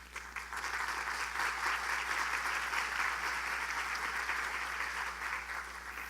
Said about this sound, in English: I just want to give another round of applause to those 4 teachers